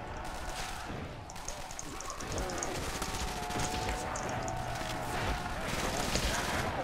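Rapid gunfire from a fast-firing weapon in a custom zombies map set on a farm, a dense stream of shots running continuously under a talking player's voice.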